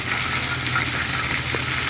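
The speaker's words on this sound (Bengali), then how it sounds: "রোস্টরা মুরগির রান ভাজা হচ্ছে।" Chicken leg pieces for roast fry in a pan, an unbroken close sizzle and crackle of hot oil, even in level from start to finish with no voices.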